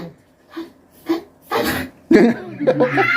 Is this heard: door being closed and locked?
no